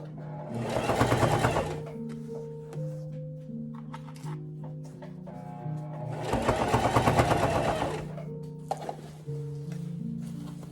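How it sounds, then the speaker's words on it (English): A sewing machine runs in two sustained bursts of rapid stitching along the waistband of thrifted cow print jeans, with quieter pauses and light handling between them. "So now I finished the stitching around my waistband"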